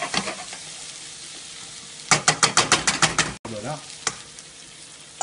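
Grain sautéed in a hot pan until pearly, sizzling steadily with a quick run of rhythmic stirring scrapes in the middle; a brief spoken word follows.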